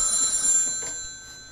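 An old-style telephone bell rings in a short steady burst of bright metallic tones, moderately loud and alone, then fades slightly by the end.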